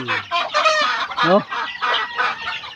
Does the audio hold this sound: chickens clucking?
yes